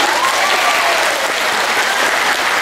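Audience applause at a religious gathering in Hong Kong, a dense and loud burst of many hands clapping, steady and continuous from start to end.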